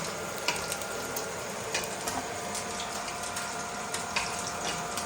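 Fish frying in hot oil for a cauliflower fish curry, a steady close sizzle with faint crackles and occasional scrape-like ticks, no voices.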